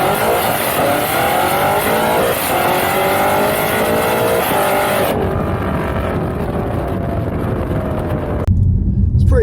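A Stage 2 tuned BMW F90 M5 Competition accelerates hard, its engine roaring loud and close with rising revs through the gears, the tone cutting sharply near the end as the run eases off; no one speaks.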